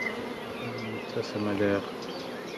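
Honeybees from a thriving colony buzz at an opened hive, a faint steady hum with a few louder, closer drones rising briefly, while someone talks softly over it.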